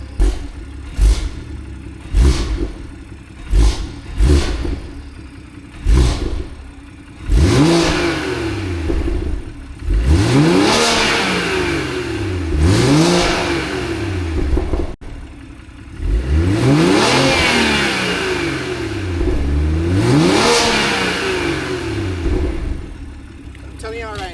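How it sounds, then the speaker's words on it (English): A BMW 340i engine revs repeatedly: a series of short sharp blips, then long rising and falling revs that sweep up and down, loud and close. "I'm gonna just put the camera down for a little bit and give y'all some revs."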